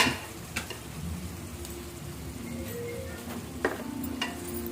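Cashew and green chili paste frying in a pan with cooked-down tomatoes for chicken biryani, giving a steady soft sizzle with a few faint utensil clicks and stirs, close and low in level, no voices.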